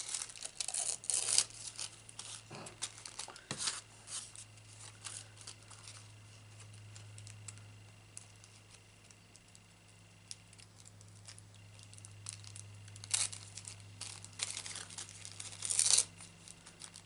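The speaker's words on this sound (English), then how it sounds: "with decent scissors, you just want to trim this off." Decent scissors trim excess paper off a handmade thank-you card, giving close, intermittent snips and crinkling paper rustles with handling noise, and no talking.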